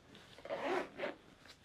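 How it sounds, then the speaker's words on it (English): A zip closing a compartment on a travel bag, heard as two quick close rasping pulls, fairly faint and without any talk. "So if I zip that up"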